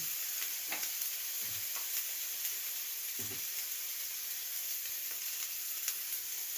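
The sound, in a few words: tomato and spices frying and being stirred in pan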